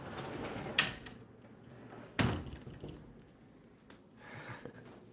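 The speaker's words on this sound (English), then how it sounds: "Let's close the doors a little bit." Doors being closed indoors, two distinct thuds a second or so apart followed by fainter knocks and rustling, close and moderately loud in a quiet room.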